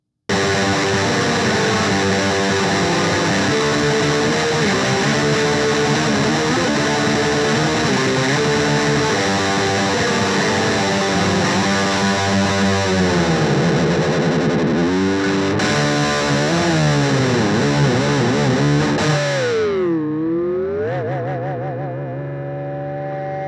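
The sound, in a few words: black metal distorted guitar through Peavey Rage 108 amp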